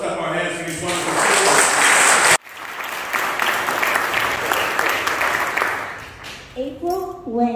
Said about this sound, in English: let's clap our hands for these wonderful people.